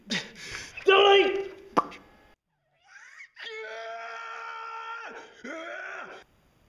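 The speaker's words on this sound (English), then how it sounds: "Boy, he sure is screaming a lot." A man in an animated adventure screams in long, sustained, wailing cries, loud and alone, broken by a short pause and a sharp plopping sound.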